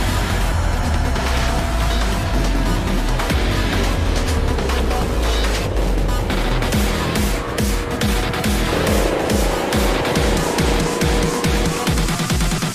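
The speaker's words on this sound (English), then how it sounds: "And with the engines fired up" Loud, dense roar of several IndyCar engines starting up and revving together, rumbling and buzzing continuously at close range with a busy, crowded texture.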